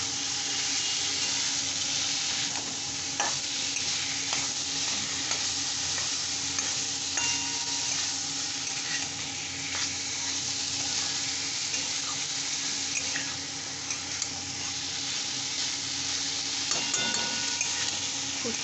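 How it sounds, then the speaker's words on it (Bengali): Taro stolons are stir-fried in oily masala, with a continuous close sizzle and scraping stirring strokes that recur irregularly throughout, and no talking. "এইবার আমি এই লতিটা দিয়ে দেব। লতি দিয়ে ভালো করে কষতে হবে।"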